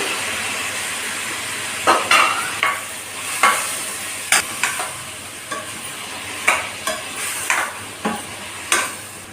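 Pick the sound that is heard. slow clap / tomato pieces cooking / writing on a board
tomato pieces cooking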